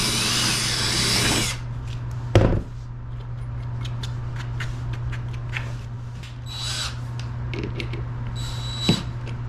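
A power drill bores a hole for the mounting bolts of a Vevor diesel air heater: a short, bright whirring burst at the start, then a steady low hum with scattered clicks and knocks nearby.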